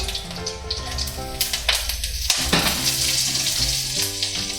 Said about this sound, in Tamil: அது கூடவே கொஞ்சம் சோம்பு, கருவேப்பிலை